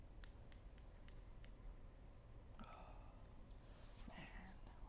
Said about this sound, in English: Oh, man, we're getting all of these strings cut.